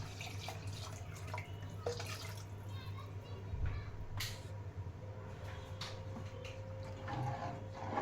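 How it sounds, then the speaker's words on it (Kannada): Water poured into a pot while making tomato bath, a running trickle with small splashes and drips over kitchen background noise, moderately close. "ನೀರು ಹಾಕ್ಕೊಳ್ಳಿ."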